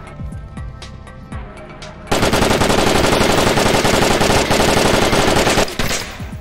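Rapid automatic gunfire in the VR shooter Onward: a few scattered shots first, then a loud, sustained burst of fast machine-gun fire lasting several seconds before cutting off.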